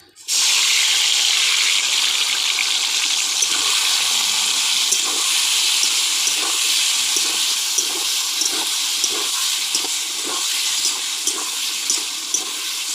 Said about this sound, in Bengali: তেলটা গরম হয়ে গেছে এইবার দিয়ে দেবো মাংসটা